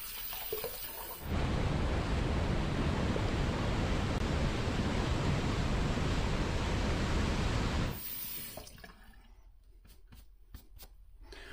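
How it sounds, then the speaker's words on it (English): Water runs steadily for about seven seconds as someone rinses off after a shave, a broad close splashing hiss that cuts off sharply, followed by quieter drips and small clatters. "let me rinse off."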